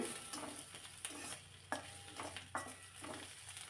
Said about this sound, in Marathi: आलं लसूणचा कच्चा स्मेल जाईपर्यंत हे परतून घ्यायचं आहे